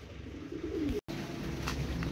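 Racing pigeons coo at a loft on arrival from a 267 km race from Pio Duran, a low steady murmur of calls close by, broken by a brief dropout.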